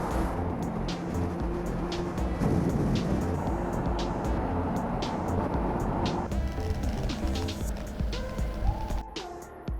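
A Yamaha R6 superbike rides off-road on a beach, its engine a steady rumbling drone mixed with wind and rough surface noise, close and continuous, easing off near the end.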